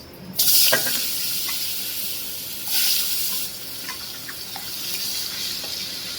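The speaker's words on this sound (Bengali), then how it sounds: "এখন তরকারির জন্য প্রথমে আমরা আলু ভেজে নেব।" Potatoes hiss as they hit hot oil, with two sharp bursts of sizzling that settle into a quieter, steady fry.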